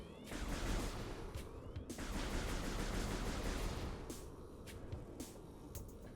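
Arm cannon blasts from the Metroid Prime game fire repeatedly over a loud, dense rumble of in-game noise, sharp bursts punctuating a constant wash.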